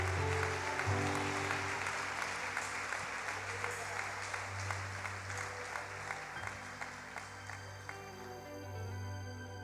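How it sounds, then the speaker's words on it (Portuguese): Steady applause from a large crowd, a dense wash of clapping lasting several seconds over a low background hum, no voices. "Você pode dar uma salva de palmas ao Senhor."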